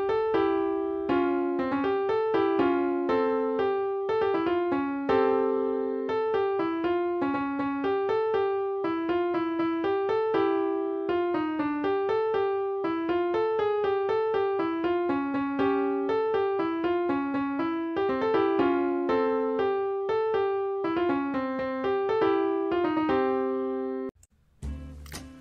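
Jazzy MIDI music generated by a Velato Hello World program plays steady synthesized piano-like chords and melodic notes in a bouncy rhythm for about twenty-four seconds, fairly quiet, then stops with a short burst of noise.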